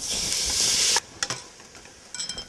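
Tomatoes dropped into a hot pan of frying onions and green chilies give a loud, steady sizzle for about a second. It then fades into a few quieter scraping and stirring clinks.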